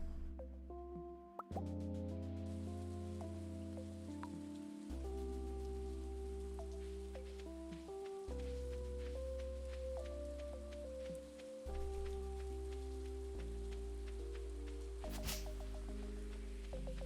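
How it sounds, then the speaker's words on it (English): Steady rain falling in the farming video game Stardew Valley, a soft continuous patter with plopping drips under a bright melodic game soundtrack, with no talking. "So much rain."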